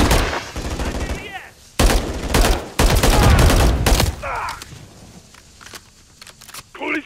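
Call of Duty gunfire in a London urban assault mission: loud bursts of automatic rifle fire and fusillades close by, separated by short gaps, with shouted voices of squad members between volleys.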